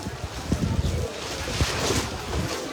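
Wind blows outdoors across an open cattle market on a sunny day, a steady broadband rush with gusty buffeting against the microphone and faint background voices.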